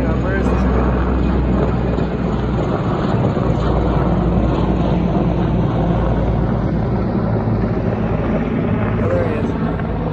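Helicopters fly over the Radford Fire near Snow Summit at Big Bear Lake, California, making a continuous, loud rotor and engine drone with a steady low rumble that never lets up.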